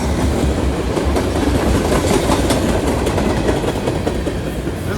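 A long freight train rolls past close by with a steady heavy rumble and rhythmic clickety-clack of wheels over rail joints, with no one talking.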